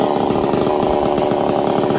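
A chainsaw cuts a dried-out tree, running loud and close, its engine buzzing steadily without letting up for the whole stretch.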